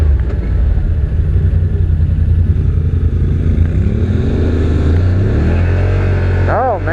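A 2021 Yamaha Wolverine RMAX 1000 base model side-by-side in sport mode, its engine roaring loud and close in a continuous drone that climbs in pitch as it accelerates.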